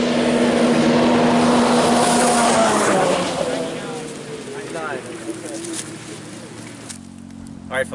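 A stock studded 2017 Arctic Cat Thundercat snowmobile roars loudly as it launches on a quarter-mile run, its engine pitch climbing then fading into the distance, with a voice speaking over it.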